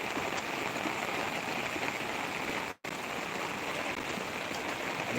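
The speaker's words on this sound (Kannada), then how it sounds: "ನೋಡಿ ಈ ಥರ ನೀರು ಬರ್ತಾ ಇದೆ ಇಲ್ಲಿ" Heavy monsoon rainwater rushes past a newly built village wall that has broken apart. The steady, loud rush runs without a break, apart from a momentary dropout midway.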